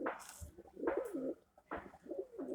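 Pigeons in a rooftop pigeon cage coo in three soft, throaty rolling phrases with brief pauses between, close and clear with no voices.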